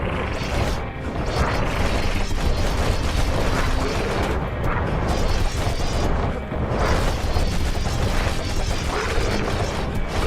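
Heavy war machete strikes in the action game Bastion land in a dense, continuous barrage of crashing, booming impacts over rumbling game noise, loud and close for the whole stretch.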